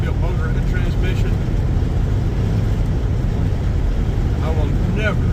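A car with a Jasper rebuilt engine and 4L80E automatic transmission drives steadily, its low road and engine rumble filling the clip with a voice speaking over it.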